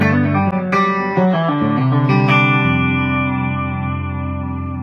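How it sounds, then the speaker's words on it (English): Distorted electric guitar, a 1954 Virgil Arlo model on its bridge pickup, rings out in a few bright strummed chords, with echo and a thick, sustained tail, heard alone. "the bridge pickup especially sounds totally warm and full without being thin or shrill or high-endy"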